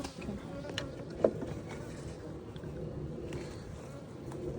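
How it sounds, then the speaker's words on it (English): Bees buzz as a dense, continuous drone during a beehive inspection ten days after installation, close and steady throughout, with a brief knock or tap partway through. "You're smashing a bee with it."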